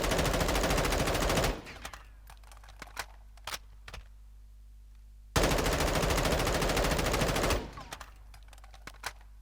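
An M4 rifle fires at a door in Call of Duty: Modern Warfare II, two long sustained automatic bursts, loud and close, separated by a quiet gap with scattered sharp mechanical clicks.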